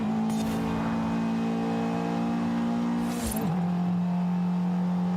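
Naturally aspirated 1994 Mazda Miata NA with a four-cylinder engine, 1.6 or 1.8 litre, revving steadily in Forza Horizon 5, a loud sustained drone whose pitch dips briefly midway before holding high again.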